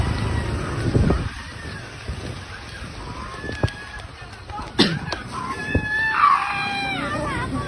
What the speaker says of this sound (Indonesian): Jeritan dan tangis penumpang pecah saat mobil pickup yang mereka tumpangi terbalik